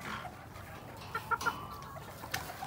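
A few soft clucks and short calls from a rooster in a gamecock pen, faint against quiet background noise, clustered in the middle with another near the end.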